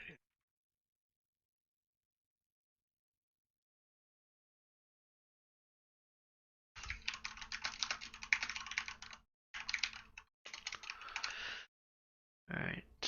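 Typing on a computer keyboard comes in quick bursts of close clicks and key taps after a long silence, pausing briefly between runs, with no voice over it.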